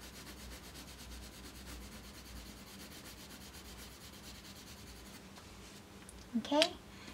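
A Putty Beige PC1083 colored pencil rubs steadily across paper in rapid back-and-forth shading strokes, quiet and close, ending with a brief louder scrape or handling sound.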